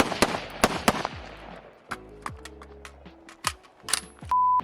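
A Type 81 rifle firing during a timed shooting course, with a fast burst of sharp, loud shots close by at the start and more spaced reports after, ending in a steady electronic timer beep.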